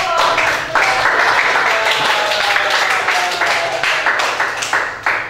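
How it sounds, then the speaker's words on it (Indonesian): A classroom group claps for students who have just answered questions at a vocational school lesson, a broad burst of hand applause with uneven sharp claps running for about five seconds, fairly loud and close. "berikan tepuk tangan untuk"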